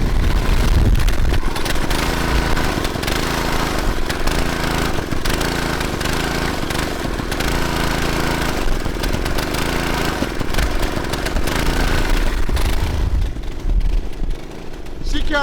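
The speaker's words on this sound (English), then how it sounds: "I'll show it to you as my 8-year-old daughter drives around the go-kart." Go-kart with a CVT transmission driven around by a young child, its small engine droning loudly and surging up and down in pitch as the throttle varies, continuous and close.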